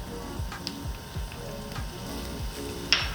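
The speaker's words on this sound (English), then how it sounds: "Once you got your onions in and they start to heat up and that sizzle happens" Steady sizzling of onions and minced garlic frying in a pan, a soft crackling hiss with occasional pops and scraping clicks throughout.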